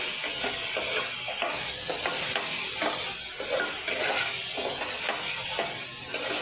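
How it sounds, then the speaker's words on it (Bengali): Spice paste for a Bengali kabuli chana curry stir-fried in a pan, a steady close sizzle broken by repeated scraping strokes of a spatula, with no voices. "মশলাটা ভালো করে কষানো হয়ে গেছে"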